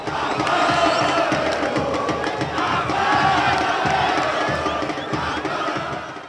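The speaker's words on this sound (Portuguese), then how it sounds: "o apito final consagrou a classificação motense e a euforia tomou conta da torcida rubro-negra" Rubro-negra supporters of Moto erupt after the final whistle of a football match against Maranhão, a dense, sustained roar of cheering and shouting from a large stadium crowd, heard alone for several seconds.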